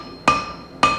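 A hammer strikes hot 410 stainless steel on an anvil twice, each a sharp, ringing metallic impact about half a second apart, loud and close with a brief decay.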